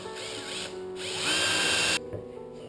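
A power drill whirs steadily, rising in pitch and load as it bites into solid wood, then cuts off abruptly.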